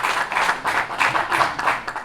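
An audience at a press conference for a new album applauds the artist, a steady run of close, moderately loud claps in quick rhythmic bursts with no talking over them.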